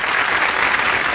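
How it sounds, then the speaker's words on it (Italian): Warm applause from a studio audience on an Italian live stream, a steady dense wash of clapping filling the whole moment with no gaps. "c'è un bel applauso a Francesca"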